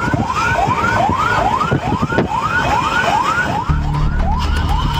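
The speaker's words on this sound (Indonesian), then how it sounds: "Petugas damkar melaju dengan kecepatan tinggi di tol Cisumdawu, Sumedang, Jawa Barat." Fire engine siren wailing as the truck speeds along the Cisumdawu toll road in Sumedang, West Java, a loud rapid rising-falling whoop repeating steadily, close by, with engine rumble entering near the end.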